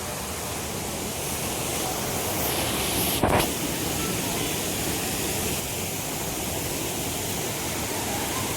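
The Sanghagra waterfall roars as a dense, steady broadband wash of falling water, continuous and fairly near, with one brief knock partway through.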